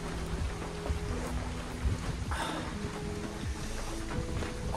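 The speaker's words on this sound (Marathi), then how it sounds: "मस्त मित्रांनो पाऊस पडतोय" Steady rain falls in the hill station of Matheran, a dense hiss of drops spread across the whole clip, with a low rumbling texture beneath and no voices.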